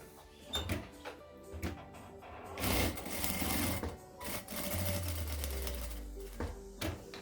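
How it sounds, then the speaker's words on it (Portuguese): A sewing machine stitches down the middle of a fabric wallet in short mechanical bursts separated by pauses, with a steady motor whir in the longer runs, close and clear. "E agora vamos fazer a costura no meio."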